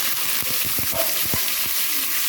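Ground onion and tomato paste frying in oil in a pan seasoned with fennel, cloves and a bay leaf, a steady close hiss with soft bubbling pops throughout and no voices.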